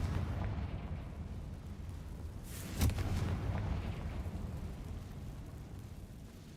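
A Confringo fire spell explodes in the Hogwarts Legacy video game, a single sharp blast near the middle that rises above a steady rumbling game soundscape.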